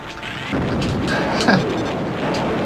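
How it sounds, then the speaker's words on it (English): Proton torpedoes fire in Star Wars Arcade on the Sega 32X, loud booming explosive bursts over a constant roaring game soundscape, with one sharper blast near the middle. "You can fire the proton torpedoes."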